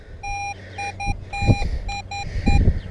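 A metal detector sweeping a field gives repeated steady beep tones in short and longer pulses, over thumping and scraping from the coil and digging, all close and fairly loud.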